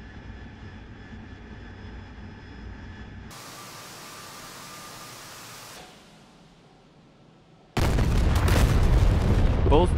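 Bombs from an AV-8B Harrier striking targets in the DCS World flight simulator: steady jet engine drone that cuts and shifts, then a sudden loud, sustained burst of explosion noise at the end.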